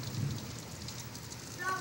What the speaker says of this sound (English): it is raining really hard